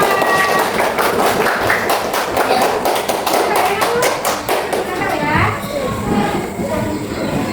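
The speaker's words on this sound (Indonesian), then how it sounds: "Oke, beri tepuk tangan untuk kelompok 2." A classroom of children claps for a group during an Islamic studies lesson, a fairly loud patter of many hands that fades after a few seconds, with children's voices and talk around it.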